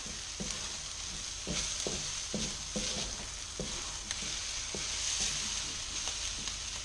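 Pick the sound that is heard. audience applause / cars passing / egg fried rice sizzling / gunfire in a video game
egg fried rice sizzling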